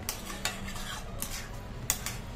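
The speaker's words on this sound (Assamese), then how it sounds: "এনেকুৱাকৈ অলপ লৰাই দিছো লাহে লাহে লৰাই দিব লাগিব যাতে পনীৰখিনি মোৰ ভাঙি নাযায়" A utensil stirs fried paneer gently in a pan, making light metallic scrapes and taps at a slow, irregular pace close by, with a faint sizzle underneath.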